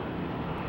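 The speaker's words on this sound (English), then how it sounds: "at least we have some aircraft going on." An aircraft at Schiphol Airport in fog gives a steady, broad engine roar, faint and distant, unbroken through the short stretch, with no voices.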